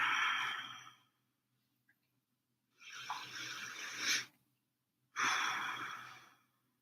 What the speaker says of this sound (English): I'm going to take a couple deep breaths